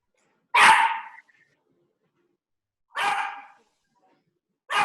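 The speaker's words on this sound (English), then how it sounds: "Sorry for my dog." A dog barks alone in a quiet room, with three loud separate bursts spaced a couple of seconds apart, the last one cut off at the end.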